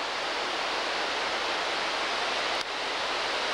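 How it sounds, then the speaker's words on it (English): A mountain stream runs beside an old abandoned gold mine high in Colorado country, giving an even, broadband rush of water that holds steady and alone throughout. "The water you hear, the noise is a stream running"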